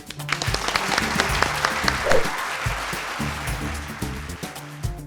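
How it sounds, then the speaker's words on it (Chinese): Studio audience applause welcomes a guest, a forensic scientist, onto a talk show: sustained, dense clapping at close range for about five seconds with a low musical bed underneath. "让我们掌声欢迎谢松善阿善师"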